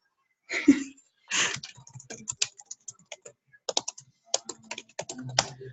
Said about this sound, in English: I can't say one of them because I'm going to type it here